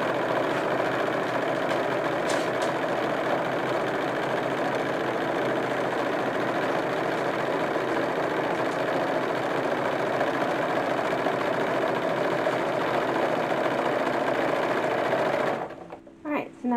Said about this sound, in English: we're going to sew using the modern machine today, because I feel like it